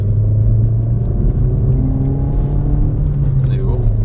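Inside a hot hatch switched into race mode on a straight, a steady, loud engine rumble builds as the car accelerates, heard from the cabin with a faint higher whine above the low drone.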